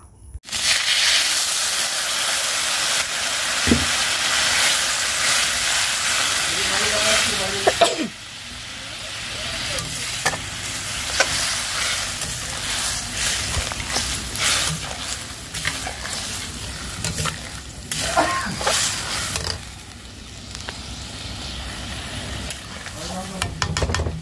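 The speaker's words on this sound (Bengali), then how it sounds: "এখানে আমি বাটা মশলাটা দিয়ে দিলাম, দিয়ে ভালো করে ভেজে নিচ্ছি" Ground spice paste frying in a pan for a Bengali fish curry with vegetables, a steady loud sizzle with stirring scrapes and spoon knocks, easing a little partway through.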